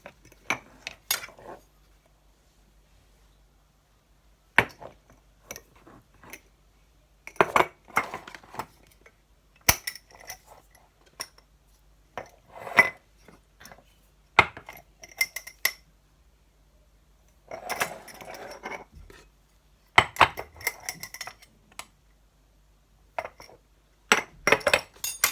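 Metal teaspoons and utensils clink and tap against bowls and containers in irregular bursts while seasonings are measured for sweetcorn fritters and chilli bites, with quiet pauses between the sharp, close clatters.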